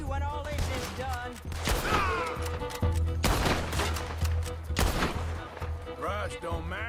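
Gatling gun firing in Red Dead Redemption 2, loud rapid rattling bursts mixed with other gunshots, while voices and shouts break through between volleys.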